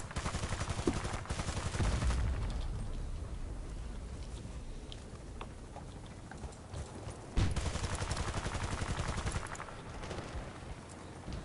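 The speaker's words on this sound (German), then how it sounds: "Irgendwer schießt schon wieder auf mich" Gunfire in the video game Battlefield Bad Company 2, bursts of shots and rattling fire mixed with rushing wind-like noise, loud and sustained with a sharp burst partway through.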